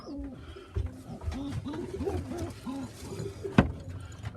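Pigeon hens at the loft give a run of soft, rhythmic coos, close by and fairly quiet, with a sharp knock or flap near the end.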